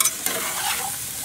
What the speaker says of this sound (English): We'll just go ahead and stir this up and get these frying up.